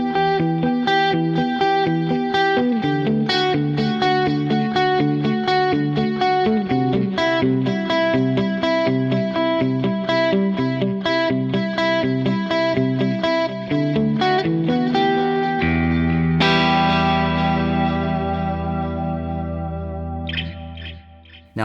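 An electric guitar plays a chordal riff through a TC Electronic Plethora X1 multi-effects pedal preset, with distortion, shimmering chorus and echo, ending on a sustained ringing chord that trails away.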